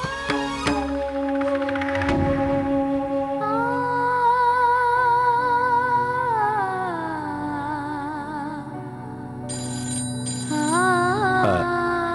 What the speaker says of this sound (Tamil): அதோ போன் அடிக்குது, யாருன்னு பாரு.